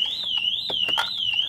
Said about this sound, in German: wenn ich das versuche, geht der Alarm an und das Auto lässt sich nicht starten